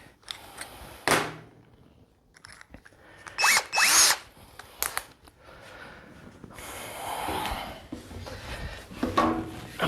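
A cordless drill whirs in several short bursts, revving up and stopping, with pauses and some scraping and breathing between runs.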